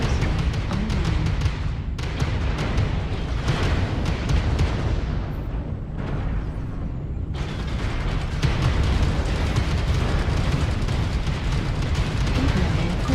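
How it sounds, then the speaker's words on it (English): Airstrike explosions in a mech combat video game come as heavy, continuous rumbling blasts and booming bursts, loud and dense throughout, with a brief lull midway before the barrage resumes. "Target spotted. Airstrike online."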